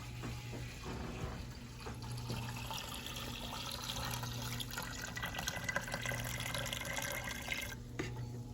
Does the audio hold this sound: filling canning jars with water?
yes